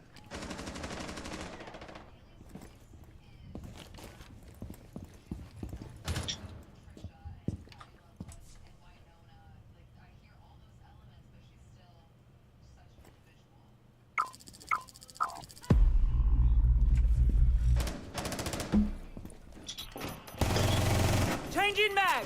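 Gunfire in the tactical shooter Rainbow Six Siege, sparse single shots early, then loud sustained bursts near the end, with quieter stretches between them.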